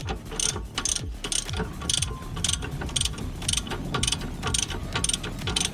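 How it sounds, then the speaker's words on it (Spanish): A socket wrench ratchets loose the 21 mm shock absorber bolts on a Nissan Versa-family car. Steady, loud pawl clicking repeats in quick rhythmic strokes throughout, with no talk. "aquí con un dado y una llave de 21 milímetros vamos a estar aflojando estos dos tornillos que sostienen el amortiguador"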